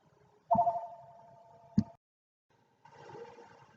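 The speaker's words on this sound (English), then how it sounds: "Someone's being rude and ringing my phone." A phone rings indoors, a sustained electronic tone with a short click, then silence and another fainter ring.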